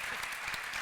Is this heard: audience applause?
yes